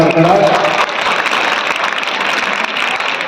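Audience applause at a school annual prize-giving event, a steady dense burst of clapping from a crowd in a hall, loud and continuous throughout.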